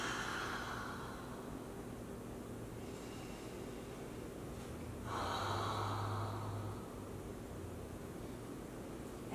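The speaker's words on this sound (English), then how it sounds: "So this is the exhale." Deep, steady exhaling breaths during a chair yoga session, a continuous airy whoosh close to the microphone that swells louder midway, with a faint low hum underneath.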